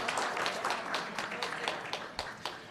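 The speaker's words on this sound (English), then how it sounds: "give him a round of applause for that also" Audience applause at a school board meeting, a moderate room full of clapping with distinct individual claps popping through a continuous patter, slowly thinning toward the end.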